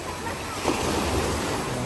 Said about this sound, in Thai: จะลงไปเล่นคลื่นเอาอันนี้ก่อน